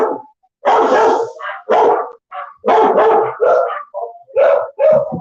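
Dogs at an animal shelter bark loudly and close by in a rapid series of about eight sharp barks and yips with short gaps between them.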